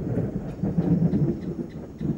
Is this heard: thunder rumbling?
yes